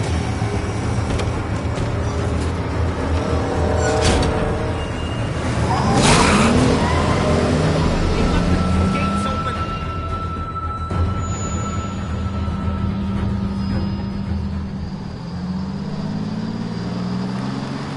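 A car engine idles and revs in a PS4 video game, a steady low rumble with passing whooshes and skids, fairly loud, with game characters talking over it at times.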